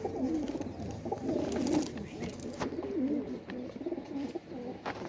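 Soft, low pigeon cooing repeats in short rolling phrases against a steady background murmur, with a few faint clicks.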